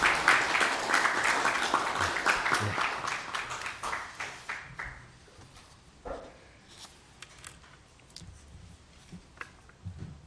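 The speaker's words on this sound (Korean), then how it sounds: "박수로 맞아주시기 바랍니다." A burst of clapping from a crowd welcoming guests to a meeting fades out after about five seconds, leaving scattered claps and small rustling noises in a quiet room.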